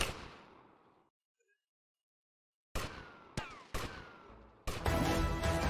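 Gunshots in GTA Vice City, an opening blast fading out, a short silence, then four sharp, loud shots in quick succession, the last one followed by sustained game noise.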